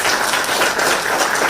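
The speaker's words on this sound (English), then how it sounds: "Now you're clapping" Applause from an audience at a public talk, a brief, dense wash of many hands clapping at steady loudness.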